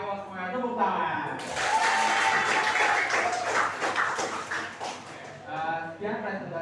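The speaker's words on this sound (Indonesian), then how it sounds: "Ayo semuanya tepuk tangan." A classroom audience claps after a group presentation, a dense burst of applause of several seconds, with a voice speaking just before and after it.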